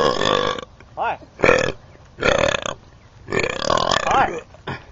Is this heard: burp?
yes